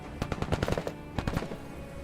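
Gunfire in the tactics video game Menace: two rapid bursts of sharp, loud automatic shots, a dense cluster of cracks followed by a short pause and a second volley, fading into a low rumble.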